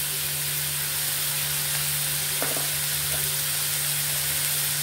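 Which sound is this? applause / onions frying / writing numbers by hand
onions frying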